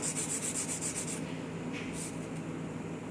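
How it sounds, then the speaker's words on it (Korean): Nail file shaping the front of a one-tone acrylic nail sculpture, giving a steady close scratchy rubbing in quick even strokes for the first second, then softer continuous abrasion with no talking. "자 이제 파일링 들어갈 건데 제일 먼저 하셔야 될 게 정면 쉐입입니다"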